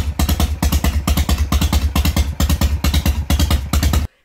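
A fuel-injected Harley-Davidson V-twin motorcycle engine idles at about 1,000 RPM, with a close, loud, steady pulsing beat and mechanical clatter that stops abruptly near the end.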